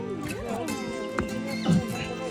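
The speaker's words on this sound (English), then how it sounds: "And that's Joe, the horse Michelle just rode" A horse at a village near a waterfall whinnies in a wavering call close by, while a person talks softly to it and hooves or small knocks sound underneath.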